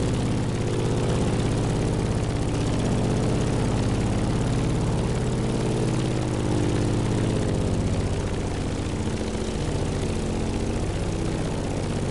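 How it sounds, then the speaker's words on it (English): A Grumman F8F Bearcat propeller fighter drones steadily in a racing game, a loud, continuous low engine roar with a throbbing propeller hum that holds constant throughout. "In the cockpit of a stunning Grumman F-8F Bearcat,"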